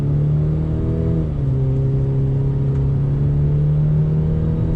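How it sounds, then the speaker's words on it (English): A 2020 Cadillac CT5 luxury sedan accelerating on throttle onto a highway, a steady loud engine drone with rising harmonic tones and a brief shift dip early on, heard from inside the cabin with no talking. "we're gonna get on the highway and see how she drives here. But back on throttle."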